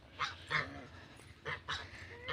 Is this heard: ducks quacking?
yes